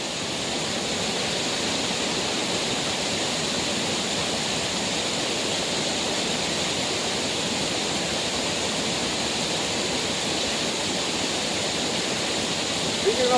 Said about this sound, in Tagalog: Ang sarap pakinggan ng ng ating tubig.